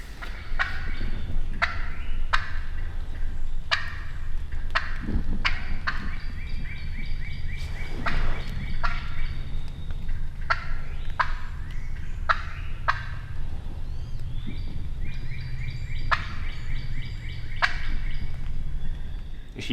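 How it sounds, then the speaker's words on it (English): Live Illinois turkey hens calling, a steady run of sharp, repeated yelps and clucks, fairly close and loud over a low background rumble, with no voices. "This is the Illinois turkey."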